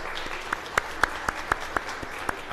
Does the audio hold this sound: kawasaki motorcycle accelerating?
no